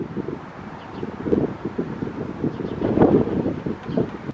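Gusts of wind buffet the microphone, rumbling in uneven low bursts that swell and fade, strongest near the end.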